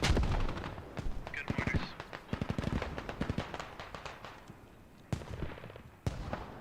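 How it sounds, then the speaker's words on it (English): Mortar fire lands in a military shooter video game, with repeated loud thumping impacts and crackling bursts overlapping one another in a busy, continuous barrage. "Mortars are beating up on some of the insurgents."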